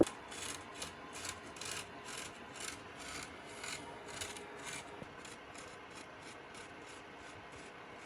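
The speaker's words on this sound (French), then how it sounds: "J'utilise un marqueur, je trace les traits." A marker tracing lines on tufting canvas, giving a steady run of soft rhythmic scratching and rubbing strokes, close and fairly faint, with no talking.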